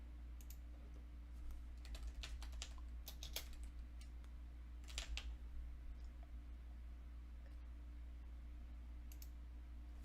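Fairly quiet keystrokes on a computer keyboard, clicking in short irregular bursts over a steady low electrical hum, with no talking.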